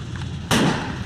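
A tank gun fires in Foxhole with a single sudden loud blast that cuts in mid-clip and rumbles briefly before fading, over quiet background.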